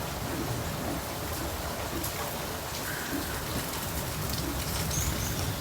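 Rain falls steadily outside a cattle shed that houses Jersey cross cows, a continuous even hiss with faint bird calls rising through it now and then.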